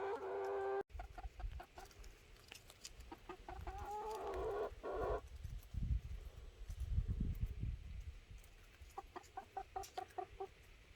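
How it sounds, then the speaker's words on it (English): Friendly backyard chickens cluck and murmur close by in short bursts and scattered calls, with rustling and handling noise between them and no talk. "But these are my chickens."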